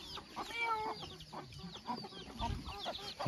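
A rooster clucks repeatedly in short, close bursts, with other farmyard birds faintly around it, in the hills on a hiking trail to Chuli Pokhari, Nepal.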